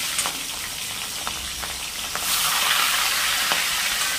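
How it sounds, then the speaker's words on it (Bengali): Fish slid one by one into hot oil in a wok, a soft crackle that bursts into a loud, steady sizzle partway through, with a few sharp pops. "তেল গরম হয়ে গেছে। মাছগুলোকে এইবার ছেড়ে দিচ্ছি একটা একটা করে।"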